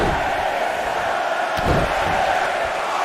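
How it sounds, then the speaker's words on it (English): A dense, steady roar of a large crowd cheering and chanting in the WWE 2K19 wrestling video game, loud and continuous throughout, with no single voice standing out. "Listen to this crowd count the next one in."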